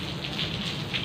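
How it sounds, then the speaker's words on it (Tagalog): Heavy rain pours steadily, a dense continuous hiss of drops hitting surfaces, loud and close with no voices. "Lakas ng ulan din, sumabagsak."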